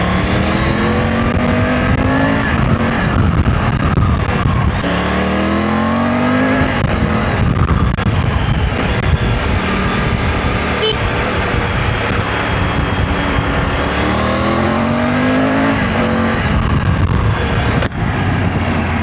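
Triumph Tiger 900 Desert Edition three-cylinder 900 cc motorcycle with a road-legal Akrapovic exhaust, a loud close engine note that rises and falls with repeated revving and acceleration under steady wind rush, no talking.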